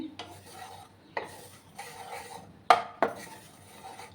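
Sesame seeds dry roasting in a pan, a spatula scraping and stirring in a handful of distinct strokes against the metal, with a soft rustle between them.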